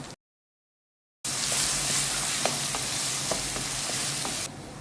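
Crushed ginger and garlic dropped into a pan with coconut pieces for a Kerala-style chicken curry, a loud, dense sizzle that starts suddenly after a brief silence, with faint stirring clicks.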